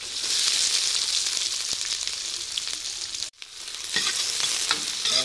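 Two large onions fry in hot oil in an iron kadai, a steady close sizzle with stirring scrapes, a brief pause midway, then the frying resumes without any talk.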